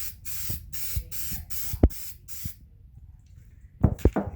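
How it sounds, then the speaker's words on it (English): Aerosol material sprayed onto an old Honda Civic door panel in a series of close, short hissing bursts, roughly six in a row, then a pause and a couple of quick final spurts with light handling knocks. "over here, you want to spray your material as well"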